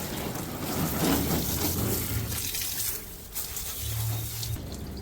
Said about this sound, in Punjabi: ਅੱਜ ਹੋ ਰਹੀਆਂ ਨੇ ਸਫਾਈਆਂ ਤੇ ਗੇਟ ਧੋਤੇ ਜਾ ਰਹੇ ਨੇ